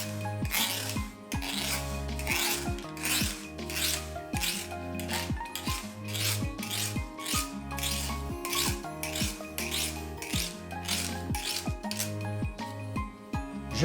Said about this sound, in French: à l'aide d'un couteau, je viens retirer l'excédent de pâte